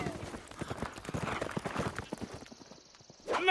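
A cartoon horse gallops off, its rapid clip-clop hoofbeats fading into the distance, then a short high sound at the very end, with no one talking.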